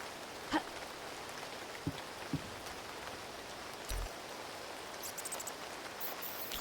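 Steady rain falling in a video game, a soft continuous hiss with faint patter throughout, broken by a few brief clicks and a low thump.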